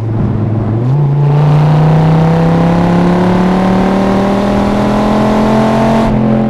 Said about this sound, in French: C'est aujourd'hui un des plus gros moteurs, 8 litres en V10, et puis c'est son couple